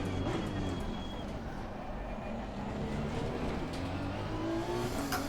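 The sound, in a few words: Honda NSX engine at high revs, Assetto Corsa Competizione video game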